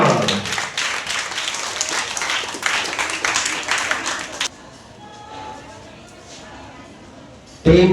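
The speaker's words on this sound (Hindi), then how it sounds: "जोरदार तालियां" Applause fills a primary-school Hindi quiz for a team that just scored, with loud dense clapping from an audience that cuts off abruptly into near quiet before a brief voice at the end.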